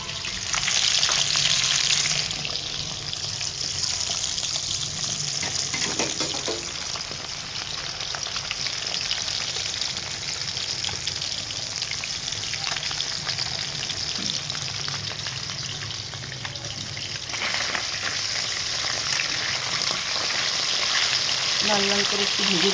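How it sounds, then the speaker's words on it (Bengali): A small live fish weighing about 1.2 kilograms frying in oil until reddish, a loud, continuous close sizzle and crackle with occasional stirring, steady across the whole stretch. "লাল লাল করে একটু ভেজে নেবো।"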